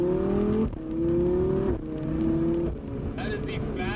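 A 2018 Audi R8 V10 Plus Spyder's V10 engine revs hard and climbs through three rapid upshifts, each marked by a quick drop in pitch before it pulls again; the sound is loud and close.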